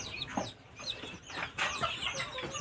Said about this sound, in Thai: ซาลามอครับไก่ สายพันธุ์ที่เล็กที่สุดจากประเทศมาเลเซีย